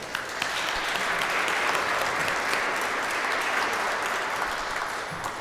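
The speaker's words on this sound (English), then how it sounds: "I want everybody to give him a round of applause." An audience claps steadily and densely at moderate volume for several seconds.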